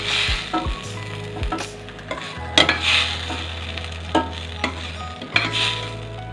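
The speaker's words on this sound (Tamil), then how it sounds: "வெங்காயம் தக்காளி நல்லா வதங்கிடுது" Onions and tomatoes sauté in a hot pan, sizzling steadily while a spoon scrapes and clatters against the metal in several sharp strokes between stretches of continuous frying hiss.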